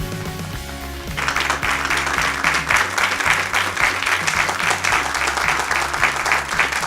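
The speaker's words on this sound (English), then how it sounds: "Thank you for that warm applause." Studio audience applause on a medical talk show takes over as opening music cuts out, a steady, dense wash of clapping from a full room that stays loud and even to the end.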